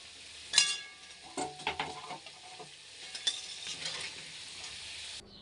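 Red-fried potatoes being stirred and lifted out of hot oil for a chicken curry, faint sizzling with a few sharp metal clinks and scraping spatula strokes against the pan.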